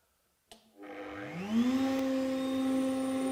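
A router table motor switches on with a sharp click and spins up into a loud, steady, high whine that holds close and constant.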